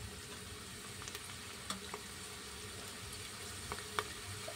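Cumin seeds and onion sizzle in hot oil for a spicy chana dal varan, a low, steady frying hiss with occasional small pops and spatula taps, fairly quiet and close, with no talking.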